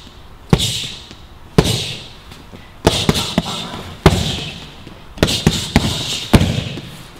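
Punches and kicks strike Muay Thai pads during a pad-training session: a sharp, loud thud lands every second or so, then quick doubled and tripled bursts, each impact close and crisp with a brief smack.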